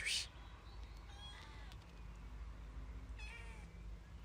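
A house cat gives a short, fairly close meow right at the start, then only low room rumble remains along with a few faint, brief higher squeaks or calls.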